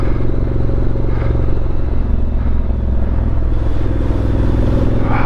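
Motorcycle rumbling close and loud through a muddy puddle on a slippery trail to rinse its tyres, engine droning steadily with clattering splashes and no talk.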